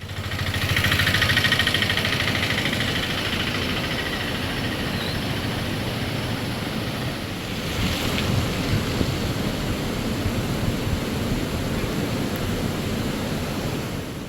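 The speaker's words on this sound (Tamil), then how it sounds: "அணையிலிருந்து 2 கரையையும் தொட்டுக்கொண்டு மழைநீர் வெளியேறிக் கொண்டிருக்கிறது" Floodwater pours out of the Srivaikuntam dam on the Thamirabarani river, spilling across from bank to bank in a loud, continuous rushing roar that stays steady throughout.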